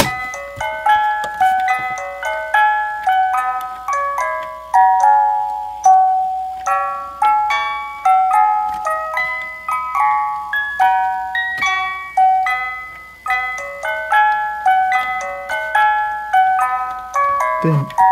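A Fisher-Price music box record player plays the Jack and Jill nursery tune as a steady run of bright, chiming plucked notes in a continuous melody, close and clear, with no talking over it.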